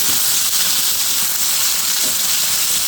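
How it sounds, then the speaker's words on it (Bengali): Whole fish frying in hot oil gives a loud, dense, continuous hiss that fills the whole stretch evenly, close up with no talking and no clear stirring strokes. "সম্পূর্ণ মাছগুলো দিয়ে দিয়েছি, এখন সুন্দর করে ভেজে নেব।"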